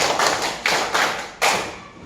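Classroom ice-breaker clapping: a few sharp, loud group hand claps in a patterned rhythm, each decaying quickly, close by with no talking over them.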